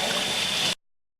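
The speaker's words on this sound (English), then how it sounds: "you're gonna let this set for a second while you wash out the bowl you were just using" Tap water gushing into a bowl as it is rinsed out after mixing bread dough, a loud steady rush that cuts off abruptly partway through, leaving silence.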